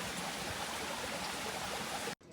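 Rushing water at the top of a tall waterfall at Rainbow Springs State Park, Florida, a loud, even hiss that holds steady throughout, then cuts out abruptly just before the end.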